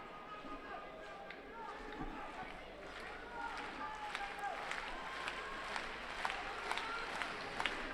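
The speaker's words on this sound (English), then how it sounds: "Crowd trying to urge the fighters on" Judo crowd at the Paris 2017 Grand Slam cheering and urging the fighters on, a steady murmur with rising shouts and claps, heard under a commentator's voice.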